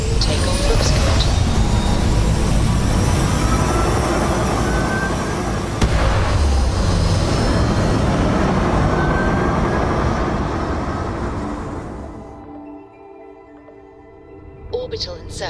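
Spaceship takeoff in the video game Starfield: a loud, sustained roaring rumble of engines with rising whooshes, which cuts off near the end into near silence and faint electronic tones.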